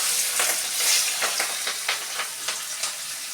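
Pieces of fish frying in hot mustard oil in a wok: a steady close hiss overlaid by a series of brief spitting bursts at irregular intervals, with no talking.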